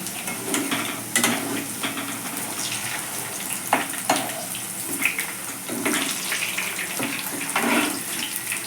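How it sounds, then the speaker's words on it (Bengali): Lentil and water spinach fritters frying in oil on a low flame, a loud bubbling sizzle broken by sharp clatters and scraping as they are turned in the pan, close and continuous. "বড়াগুলোকে লো ফ্লেমে ভেজে নিতে হবে"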